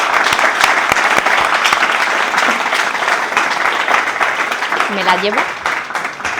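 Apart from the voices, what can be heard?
audience applause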